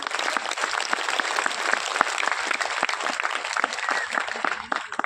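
Dense, sustained applause from a large crowd at a festival gathering, steady broadband clapping throughout with many overlapping hands, fading slightly at the very end.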